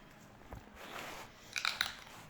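Someone bites into crunchy, sour unripe mango, with a soft crunch at first and then two sharper, louder crunches close together near the end, close to the mic over a quiet background.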